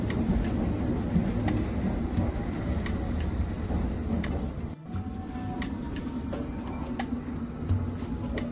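London Underground tube train running through a station, a steady loud rumble and roar with metallic clatter and brief screeches, a short dip midway, then continuing close by.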